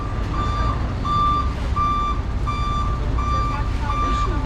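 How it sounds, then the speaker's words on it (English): A cement truck reverses with a steady series of loud, evenly spaced reversing beeps, about six over several seconds, sounding over heavy low traffic rumble in a city street in Leiria, Portugal. "there's a cement truck reversing"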